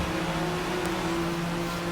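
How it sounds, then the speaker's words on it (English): A six-cylinder Porsche 911 S accelerates onto the straight at Road America during a race, its engine a steady, moderately loud drone with held tones and no speech. "Wait for the car to be pointing down the straight road and then hit the throttle"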